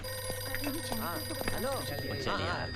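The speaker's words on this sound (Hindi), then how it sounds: "हाँ, देव साहब, आपका फोन।" A telephone rings steadily in the background while voices talk over it.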